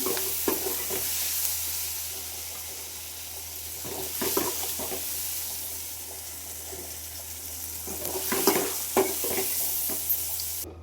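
Egg curry ingredients fry and sizzle in a pan, a steady hiss broken by several bursts of stirring and scraping, close and moderately loud with no talk.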